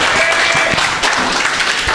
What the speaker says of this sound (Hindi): ऑडियंस प्लीज जोरदार ताली